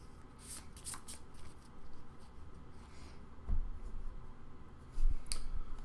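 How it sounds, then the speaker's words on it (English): Magic: The Gathering cards being shuffled by hand: quick riffling bursts and soft snaps, with a couple of louder thumps as the deck is squared. The sound is close and clear, and no one speaks. "I'll just shuffle some Magic cards in the meantime."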